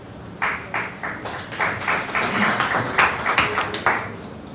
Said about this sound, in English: please, let's clap for him, Mr. Lamin